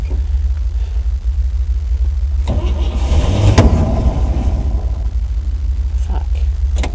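A 1955 Chevrolet dump truck engine cranks on a cold start, a steady low mechanical rumble with a brief louder surge in the middle that does not catch, close by.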